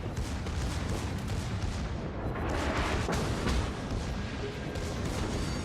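Battleship turret guns fire in the naval video game World of Warships, heavy booming salvos rolling over a dense, continuous roar of sea and battle noise.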